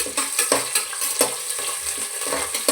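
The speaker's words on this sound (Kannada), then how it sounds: "ಹಾಗೆ ಹಚ್ಚಿಟ್ಕೊಂಡಿರೋ ಅಂಥ ಈರುಳ್ಳಿ ಹಾಕ್ತಾಯಿದ್ದೀನಿ" Chopped onions frying in oil with cinnamon, cardamom and mustard seeds for fenugreek rice (menthya bath) give a steady close sizzle, broken by several rhythmic scraping stirs of a spoon through the pan.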